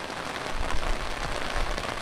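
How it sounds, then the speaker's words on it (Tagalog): Heavy rain pouring down in Port Barton, Palawan, a dense, steady hiss of drops hitting surfaces, loud and continuous with no voices. "Sobrang lakas ng ulan."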